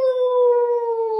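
A human voice imitates a wolf howling in pain after a burn, holding one long, loud, steady wail that falls slightly in pitch.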